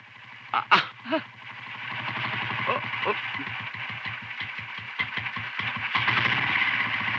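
A small motor chugs in a steady, rhythmic pulse, fairly close, with a few brief vocal bursts near the start.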